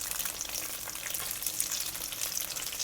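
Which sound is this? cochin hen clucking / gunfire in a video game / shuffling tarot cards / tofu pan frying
tofu pan frying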